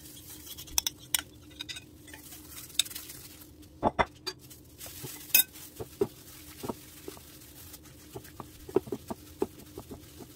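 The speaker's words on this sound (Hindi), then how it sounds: "अब ये जो पेस्ट है इसके अंदर जो हमारी सारी वेजिटेबल्स थी, कैरेट्स, मूलियाँ और स्प्रिंग अनियंस, उनको अच्छे से डाल के मिक्स कर लेते हैं।" Carrots, radish and spring onions being mixed into kimchi paste for Korean cabbage kimchi, heard as faint, irregular soft wet pats and occasional clinks against a bowl, with no talking.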